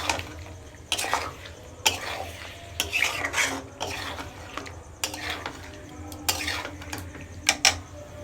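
Meat added to hot oil in a pot and stirred, with loud metal ladle scrapes and clanks against the pot at an uneven pace over a low background sizzle.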